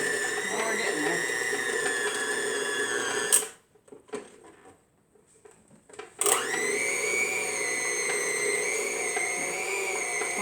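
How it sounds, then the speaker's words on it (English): An electric hand mixer whirs loudly while beating cream cheese for a no-bake citrus lime cheesecake, running steadily, cutting out for about three seconds, then starting up again at full speed. "my mixer is not really cooperating today"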